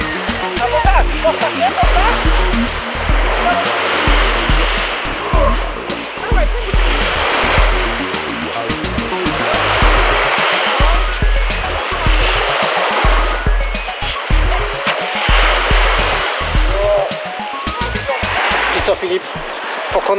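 Sea waves wash and surge along a Baltic shore in Poland, loud and close, breaking in repeated swells with wind-like roar and scattered knocks throughout.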